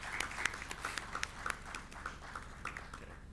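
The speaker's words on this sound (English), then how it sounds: "Let's give the Minister a round of applause for starting us off this morning." Scattered clapping from a conference audience applauding a government minister after an opening address, a thin, fairly quiet patter of individual claps with no talk over it.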